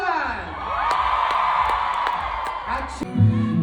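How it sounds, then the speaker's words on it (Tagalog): A loud concert crowd in Redwood City cheers, whoops and screams continuously for a world tour show, with a sustained roar swelling and a few sharper shouts near the end. "Isang malakas pa na hiyawan at sigawan!"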